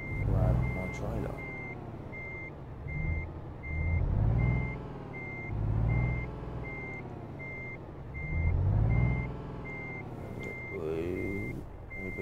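A lorry backing up to collect its trailer, sending out steady, evenly spaced reversing beeps over a loud rumbling diesel engine that rises and falls, no talking.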